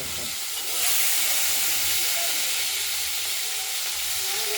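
Potatoes fry in a pan for a rohu fish curry, giving a loud, continuous hiss and sizzle close by that holds steady the whole time.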